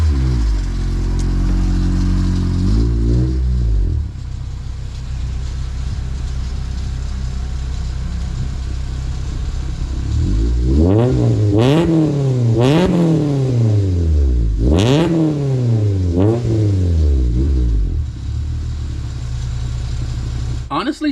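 A car fitted with a custom 3-inch stainless steel exhaust idles with a deep low drone, then gets revved hard several times in quick, rising and falling bursts, loud and close, with no voices.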